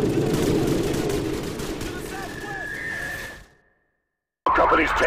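Sustained rapid gunfire from a Call of Duty 4 battle fills the scene, dense bursts with whooshes and battlefield noise, cutting to silence for a second before another loud burst returns.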